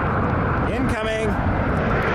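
Boeing 787 Dreamliner at Toronto Pearson airport, its engines producing a loud, steady roar that fills the whole stretch, while a voice speaks over it.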